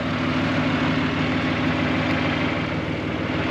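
A tractor engine idles with a steady, low, rumbling drone, close and loud, running unbroken throughout with no voices.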